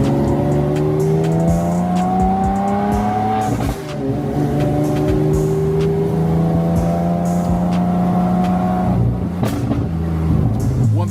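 A loud car engine roars steadily throughout, its pitch rising and shifting as it revs, with a brief dip partway through before climbing again.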